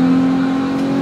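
Cars run at a racetrack curve with a loud, steady engine drone and a constant humming tone, close by and unbroken for about a second.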